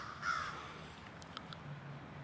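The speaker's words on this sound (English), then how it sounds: "That was that crow though, you know." A crow caws outdoors on a morning near an apartment complex, a few harsh calls, the loudest early then fainter ones, moderately distant over a quiet background.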